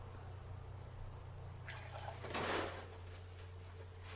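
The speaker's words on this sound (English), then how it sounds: "adding 230 grams of warm water to a bowl" Warm water poured into a mixing bowl for a bread yeast sponge, a brief splashing gush in the middle over a steady low hum, moderately quiet and close.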